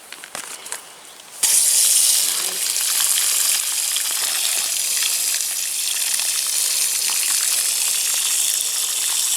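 Water gushes steadily from a garden hose laid on the ground into a planting hole for a shrub rose, a continuous hissing splash that starts abruptly and runs loud and even, close by, with no talking.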